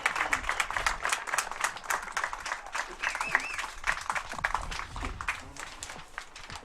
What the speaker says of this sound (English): let's give a round of applause to our active duty military and our retired military